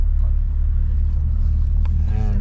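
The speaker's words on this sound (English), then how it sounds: "Taking this car to the middle of the desert." Car traveling on a desert road in Algeria, its engine and tire rumble a steady, loud, continuous drone throughout with no break.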